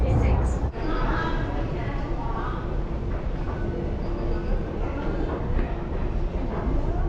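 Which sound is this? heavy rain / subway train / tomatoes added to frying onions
subway train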